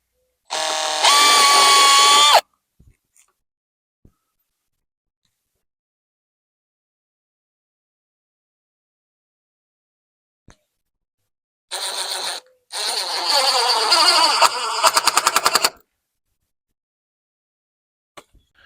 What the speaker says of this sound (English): you screw it together.